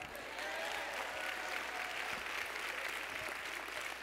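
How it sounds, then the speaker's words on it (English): Audience applause during a church sermon, a steady wash of many hands clapping at moderate distance, fairly faint and even throughout with no clear speech. "Give David a hand clap."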